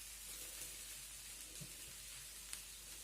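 Turkey strips sizzle faintly in a pan as a wooden spoon stirs them, a soft, continuous hiss with a few small knocks and scrapes.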